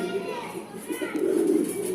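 Long-distance racing pigeons, a paired cock and hen, coo in low rolling bursts close by, and the cooing grows louder toward the end while someone talks over it.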